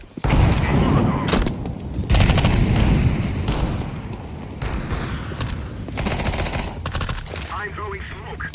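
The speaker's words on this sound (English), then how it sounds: "I'm throwing a grenade." A video game firefight, apparently a Counter-Strike-style match with grenades, a decoy, a Molotov and smoke, fills the clip with loud, sustained bursts of automatic gunfire and explosions, and a voice talks over the action.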